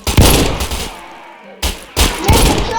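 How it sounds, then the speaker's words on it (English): Gunfire in the video game Wild Revolvers: loud, close shots with booming tails, a burst at the start, a short lull, then more shots in quick succession. "I hear some gunshots from the north"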